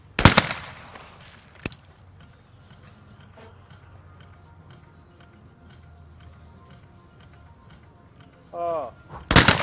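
Shotgun blasts ring out at a men's trap shooting final at the ISSF World Cup in Lonato, Italy, with two loud sharp reports at the start, another at the end and a faint one between, set against a quiet background and brief talk.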